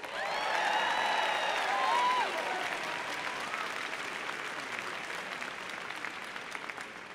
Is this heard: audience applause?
yes